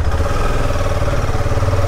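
A KTM 250 Adventure motorcycle engine runs loud and close in a steady, even throb, holding the same pace throughout with no voices present.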